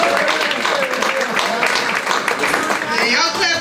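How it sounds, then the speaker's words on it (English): Audience at a comedy show claps and cheers in a dense, sustained burst of applause filling the room, with a voice briefly heard underneath. "y'all clapping now"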